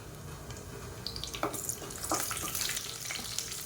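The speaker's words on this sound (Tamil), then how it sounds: "இப்போ இது எல்லாமே நல்லா பொரியட்டும்" Fennel seeds, cinnamon, cloves, star anise and curry leaves fry in hot oil for an idli kurma, giving a soft steady sizzle with brighter crackling bursts that swell toward the end.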